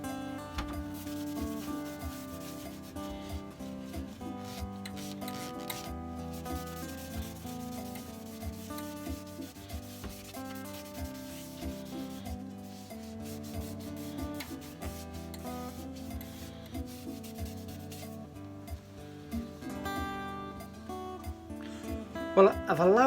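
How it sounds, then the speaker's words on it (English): A cloth wipes dirt off a blue turned wooden bowl with soft, steady rubbing strokes that sit beneath louder background music. "So if you give it a good clean off, you can see the dirt coming off from it."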